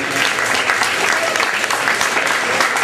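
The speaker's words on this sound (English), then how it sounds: "Another round of applause for Bill Squire" A brewery comedy crowd at Willoughby Brewing Company applauds comedian Bill Squire, loud sustained clapping filling the room without pause.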